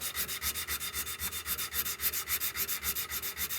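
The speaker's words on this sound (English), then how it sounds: "using my little sanding block here because I want to get down into it" Rhythmic back-and-forth rasping of a sanding block on a gun's metal surface, polished before bluing, close and steady, about six strokes per second with no talk.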